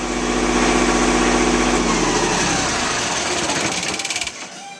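A generator engine drones steadily at a constant pitch, loud and close, then falters and sputters briefly near the end.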